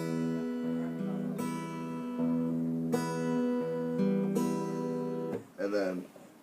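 An acoustic guitar is finger-picked, the thumb plucking bass notes while the fingers pluck the higher strings in a repeating, evenly paced pattern of clear, close notes that ring into each other, ending with a brief scrape.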